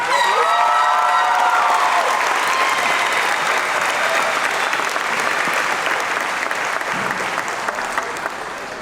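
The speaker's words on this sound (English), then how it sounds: "Let's give them all a big round of applause." A large graduation crowd applauds and cheers in a sustained, loud roar of clapping, with a few voices rising early on before the applause slowly eases toward the end.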